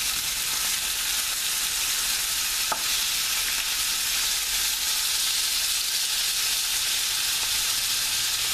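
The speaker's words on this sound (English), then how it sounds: "you can see this browning up nice and quick" Beef browns in a pot for Yankee beef stew, giving a loud, dense and unbroken sizzle close by, with one short knock partway through and no talking.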